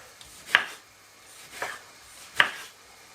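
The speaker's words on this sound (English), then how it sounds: "Just gonna simple cut it up very small and chop that straight inside of it." Three separate knife chops through a tomato onto a cutting board, close and crisp and spaced about a second apart, with no voices.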